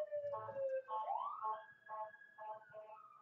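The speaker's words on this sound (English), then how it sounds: "Ambulance going up my street." An ambulance siren sweeps past on a residential street: a loud wailing tone that rises and falls in repeated cycles, close at first and then receding, with no voices over it.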